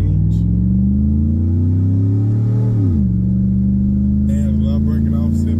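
A car pulls off fast out of a parking lot, its engine revving up in a long climbing rumble, dropping briefly at a shift, then holding a loud steady drone up close.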